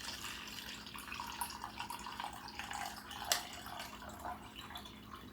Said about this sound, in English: Pouring that into my pouch.